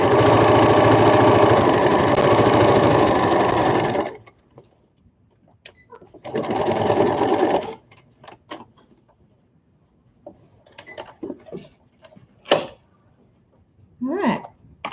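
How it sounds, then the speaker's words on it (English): A sewing machine stitching a tote bag seam, with a loud steady motorized whirr for about four seconds, then a second shorter run, followed by quieter clicks, handling noises and brief talk. "That way they don't get caught up in that seam I'm stitching."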